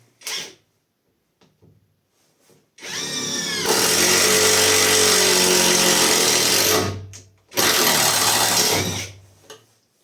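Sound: Catpower 4226 cordless impact driver driving screw into hard wood

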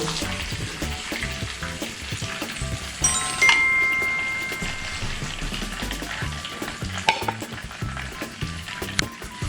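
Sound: A5 beef frying and sizzling in a pan

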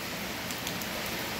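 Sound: rain falling

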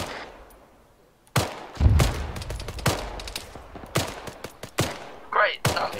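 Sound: weapon firing in Arma 3 video game

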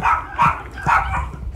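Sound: dogs barking

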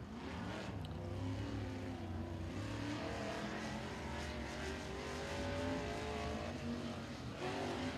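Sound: race cars on track during qualifying at Thunderhill Raceway

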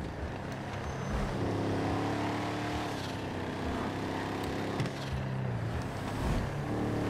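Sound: car engine driving in GTA 5 Online video game

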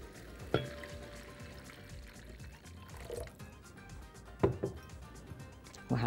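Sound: water poured onto sizzling vegetables in a pan

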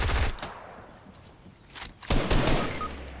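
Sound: gunfire from an enemy on a roof in the video game Fortnite

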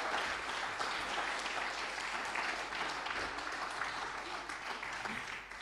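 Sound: congregation applause

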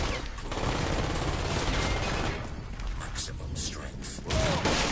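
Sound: gunfire in video game Crysis Warhead

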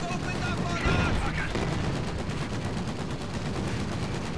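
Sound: gunfire from shock troopers in Company of Heroes 2 video game

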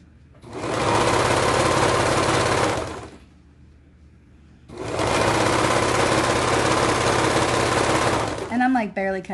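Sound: serger hemming the bottom of bell bottom trousers

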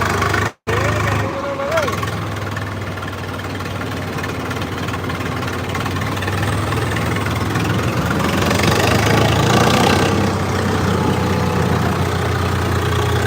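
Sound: tractor engines idling

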